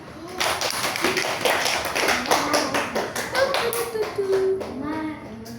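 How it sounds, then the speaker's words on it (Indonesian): Schoolchildren in a classroom clapping hands together, a steady run of many quick taps, fairly close, with children's voices faintly underneath. "Oke, tepuk tangan tarik."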